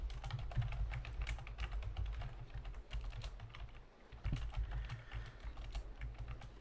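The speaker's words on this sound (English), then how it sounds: "I am not too good at typing and talking." Steady typing on a computer keyboard, a continuous run of quick key clicks over a low hum from a naval sailing game's background sound.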